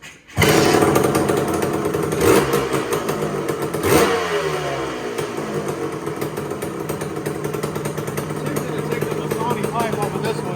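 A Tecate three-wheeler engine runs loud and close, revving up sharply around the middle and then settling into a steady, rough mid-pitched drone.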